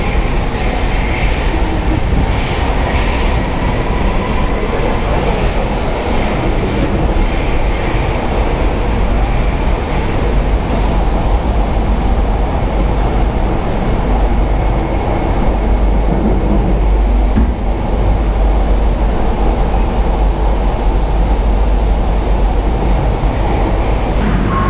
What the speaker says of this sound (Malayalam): അപ്പോൾ ഞങ്ങൾ ട്രെയിൻ റൈഡൊക്കെ കഴിഞ്ഞ് മുട്ടം സ്റ്റേഷനിൽ വന്നിറങ്ങിയിരിക്കുകയാണ്